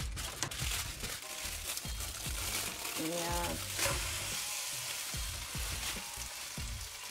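Chilled ramen noodles and egg frying in a pan, a loud, close, steady sizzle and crackle with scraping and stirring throughout, and a voice speaking briefly partway through.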